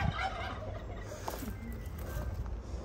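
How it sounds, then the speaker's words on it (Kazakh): A peacock at a private home's garden full of birds gives a short, faint call against quiet outdoor background noise. "павлин ғой."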